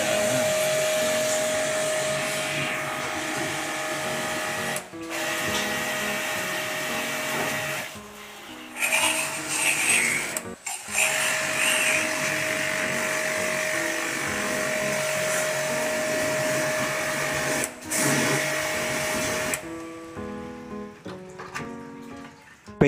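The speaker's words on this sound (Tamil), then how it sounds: "இப்போ ஏசியோடைய front panel, swing plate, air filter எல்லாத்தையும் ஜெட் ஸ்ப்ரேயை வச்சு க்ளீன் பண்ணிடலாம்." A jet spray washer blasts water over the front panel, swing plate and air filter of a Blue Star 1.5 ton air conditioner, giving a loud, steady motorized whine and hiss broken by brief stops before cutting off near the end.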